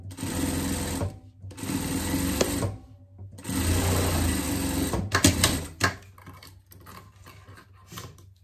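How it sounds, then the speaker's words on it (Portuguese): A sewing machine stitches the lining of a hood for a pet jester costume, running in three close bursts of rapid mechanical clatter, the last one uneven, with brief pauses and faint handling noises between them. "Passar a costura aqui."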